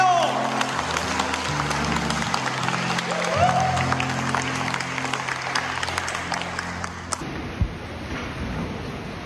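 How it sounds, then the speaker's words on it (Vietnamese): A congregation applauds at the closing of a church conference in Anaheim, California, clapping mixed with music and voices at first, then continuing alone and thinner toward the end. "Và chúng ta xin một tràng pháo tay."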